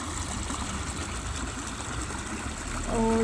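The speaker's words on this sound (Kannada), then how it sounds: "ನೀರು ತುಂಬಿಕೊಂಡು ಈ ರೀತಿಯಾಗಿ ಬರ್ತಿದೆ ನೋಡಿ" Rainwater rushes through a flooded plantation after a night of heavy rain, a steady broadband wash of flowing water held at an even level throughout, with a faint tonal hum rising near the end.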